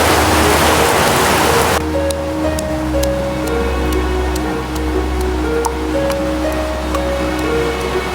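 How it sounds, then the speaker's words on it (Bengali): Heavy rain falls outside during a power cut, a loud dense hiss that cuts down abruptly early on and then continues as a softer steady patter under faint tones and regular light ticks. "বৃষ্টি পড়তেছে"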